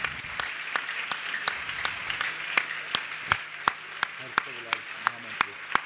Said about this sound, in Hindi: ताली एक बार बहुत जोर से, श्री गुरुदेव के चरणों में